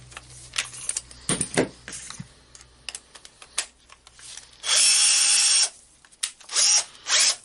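A repaired Bosch 10.8V cordless drill is handled with scattered clicks and knocks, then whirs in two short bursts of high-pitched motor spin, the first about a second long, the second briefer, close and loud.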